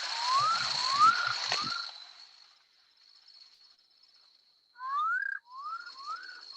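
A frog's call sounds as a series of short rising whistled notes, three in a run and then a pause before two or three more. A steady high insect-like drone runs underneath, with some low rustling near the start.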